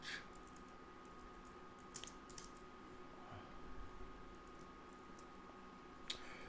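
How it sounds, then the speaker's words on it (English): Someone typing on a computer keyboard, with sparse, faint clicks and a few sharper taps over a steady low hum, with no talking. "Oh, this keyboard."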